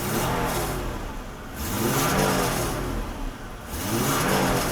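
A Mercedes-Benz W126 300SEL, just repaired after a faulty fuel distributor, is revved in an engine test: the mid-pitched engine climbs and falls in three or so repeated swells, close and loud, with no talking.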